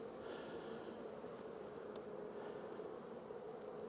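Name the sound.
honey bees buzzing in an opened hive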